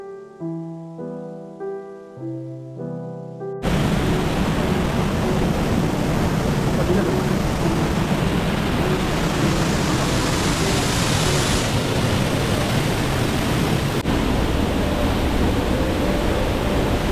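Waterfall in Ubud, Bali: a dense, steady roar of falling water fills the scene after a few seconds of music, loud and continuous throughout.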